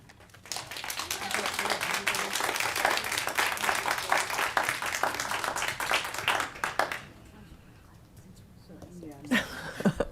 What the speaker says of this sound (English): I'm clapping because that was the last comment